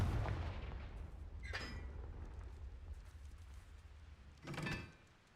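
Fire spell blasts from the Confringo charm in Hogwarts Legacy, two sharp bursts about three seconds apart over a steady low rumble of game ambience, with no talking.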